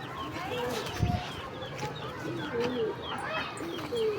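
Pigeons cooing in a rooftop loft, with soft, low, repeated coos scattered through the clip, some wingbeats and rustling, and a light background murmur.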